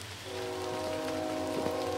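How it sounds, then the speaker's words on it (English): Steady rain pattering on surfaces while a passing train sounds its horn in sustained, layered tones, distant but clear through the downpour, with no voices. "Oh, I fucking hate that train."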